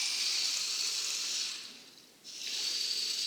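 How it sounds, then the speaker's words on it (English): Water hisses steadily into a container, pausing briefly midway before resuming, close and moderately loud with no voices. "Fill that up with water"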